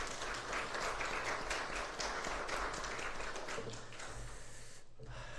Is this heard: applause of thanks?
yes